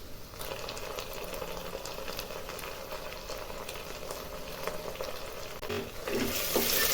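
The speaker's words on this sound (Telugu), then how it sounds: "నెయ్యిలో బాగా వేగాలి. కరివేపాకు కూడా వేసుకుందాము. 1 స్పూన్ అల్లం వెల్లుల్లి పేస్ట్ కూడా వేస్తాం." Ginger garlic paste and curry leaves fry in ghee with a steady, fairly quiet sizzle and bubbling, spoon scrapes stirring through the pan and growing slightly louder toward the end.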